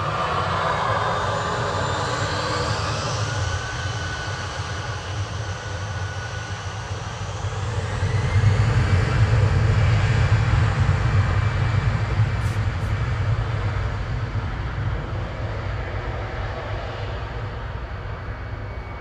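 Aircraft HQCG coming back in to land at Manchester Airport, a steady loud jet roar that swells midway, then holds as a broad, distant rumble with no talk over it.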